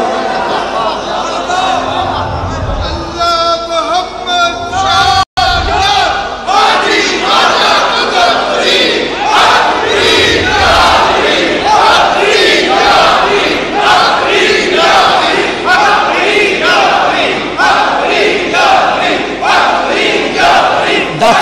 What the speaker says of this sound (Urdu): داتا کی بارگاہ میں بابا کے نعرے لگ رہے ہیں